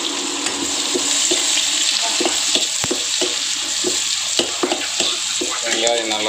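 Whole onion fries in hot oil with curry leaves for kothu parotta, a loud, continuous sizzle close by, dotted with occasional clinks and scrapes of a spoon stirring in the pan.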